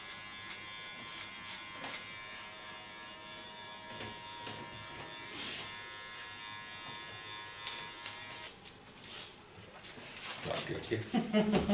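Electric hair clippers buzz steadily close by while fading very short hair at about one millimetre, a continuous hum that grows busier and more uneven toward the end.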